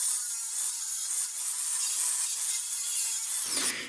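A stainless steel wire brush scrubs hard along an aluminum boat ladder during a crash repair, making a steady, close, bright scratching rasp that runs continuously before stopping abruptly near the end.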